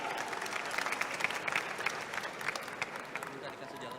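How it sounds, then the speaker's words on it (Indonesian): An audience at a busy Indonesian campaign-style meeting with a politician claps and cheers in a dense, sustained wash of applause lasting several seconds, with crowd voices mixed in. "Tepuk tangan dulu dong"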